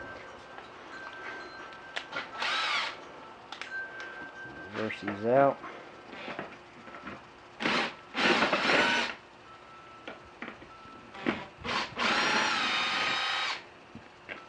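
A power drill whirs in several short bursts and longer runs, close and loud, with someone speaking briefly between them, while fitting fender flares to a 1995 Jeep YJ.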